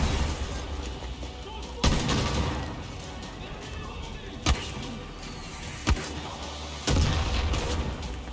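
Gunshots in Far Cry New Dawn ring out as sharp, loud isolated cracks, four or five spaced irregularly over steady game ambience and rumble, each with a short bright burst.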